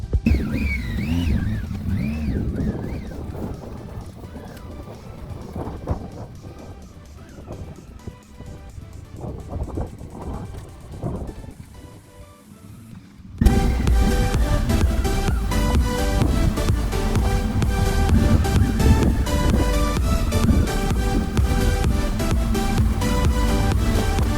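Motorcycle with ABS switched off, ridden over rough off-road rock-quarry terrain near Chota Ladakh View Point; the engine revs and surges unevenly amid wind buffeting for about thirteen seconds before loud music takes over.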